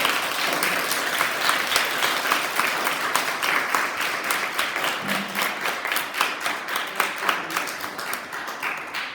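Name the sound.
girls applauding their teachers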